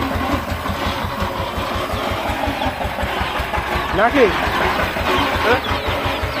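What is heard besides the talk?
power tiller engine running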